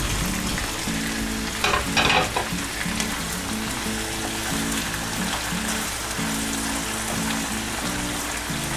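Chicken fajita with red pepper sautés in a pan with a steady, crackling sizzle close by, broken by a few louder bursts of stirring and spatula scrapes, with no talking.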